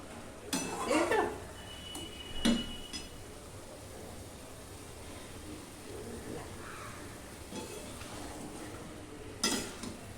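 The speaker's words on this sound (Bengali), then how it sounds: "দেখো 2-3 মিনিট একটু নেড়ে নেবে।" A cabbage dish is stirred in a pan, with a few scraping clanks of a spoon against metal separated by quieter stretches of faint sizzling.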